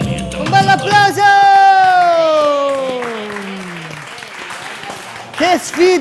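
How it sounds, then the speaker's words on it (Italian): Audience applause at a dance show, loud crowd clapping with a few whoops, under a long gliding vocal or musical tone that fades, with a brief voice near the end. "Un bel applauso."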